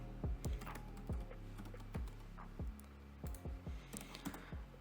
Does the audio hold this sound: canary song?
no